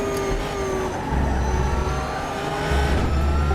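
A big V8 TransAm race car engine roars in the RaceRoom racing game at Road America, giving a loud, continuous rumbling drone that rises slightly in pitch as it revs, with no talk.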